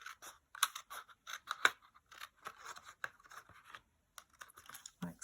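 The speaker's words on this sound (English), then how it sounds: "for this one I am going to trim it off" Scissors trim a fabric tab off a handbag, a quick run of close, crisp snips and rustles with short pauses between cuts.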